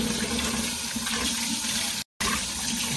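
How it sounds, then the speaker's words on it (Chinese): Tap water runs steadily into a sink while raw shrimp are rinsed for satay-braised shrimp, a continuous close splashing rush broken only by a brief cut near the end. "蝦先洗一洗。"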